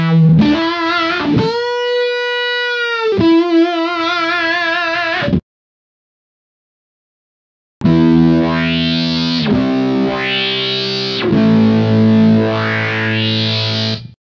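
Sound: Electro-Harmonix Deluxe Big Muff fuzz guitar lead into Holy Grail reverb

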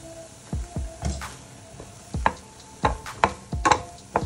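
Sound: vegetables cooking on low flame in a pan

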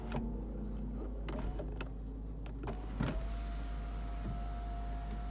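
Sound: Lexus GS F power sunroof motor operating

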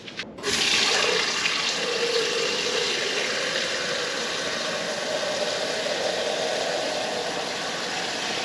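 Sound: IKEA watering can watering a green plant

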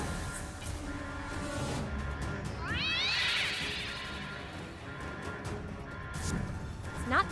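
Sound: cat meowing in a video game

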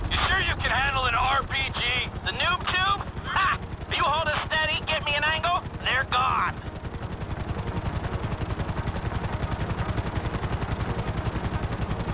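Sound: helicopters approaching in a video game heist

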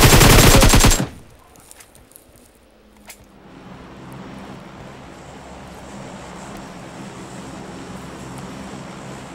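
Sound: gunfire in the video game PUBG Mobile

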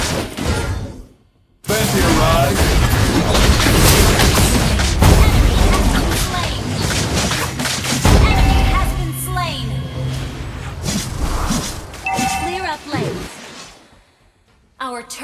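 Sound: turret being destroyed, explosions in video game

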